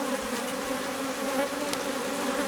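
Honeybees buzz around an opened Miniplus polystyrene hive, a dense, steady droning hum close to the ear with no talking.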